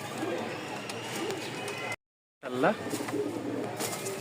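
Racer pigeons coo softly nearby, a few low throaty calls breaking through a busy background of rustling and shuffling, with a brief gap of silence midway.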